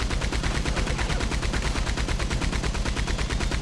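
Rapid video-game gunfire rattles in a steady, unbroken automatic stream, loud and close with no pause for the whole stretch.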